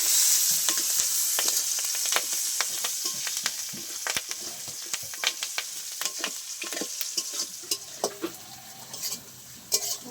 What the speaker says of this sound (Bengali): মশলাগুলো ভালো ভাজা হয়ে গেছে